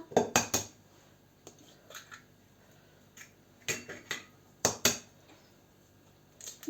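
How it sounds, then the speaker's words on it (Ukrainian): Several sharp cracks and clinks as two eggs are cracked into flour in a bowl, coming in small clusters with short pauses, close and clear with no talking. "робимо таку яминку, вбиваємо сюди два яйці"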